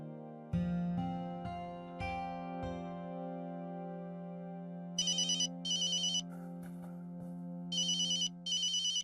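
A telephone ringtone rings in a Rajasthani household, repeating electronic bursts in a steady on-off pattern over a sustained musical drone, loud and close, with no talking.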